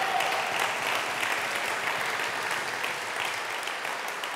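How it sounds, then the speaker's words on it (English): Sustained audience applause at a talk on foreign policy, a thick, even clatter of many hands clapping at a steady level for several seconds. "they do deserve a round of applause to start with"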